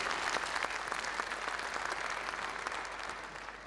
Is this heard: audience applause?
yes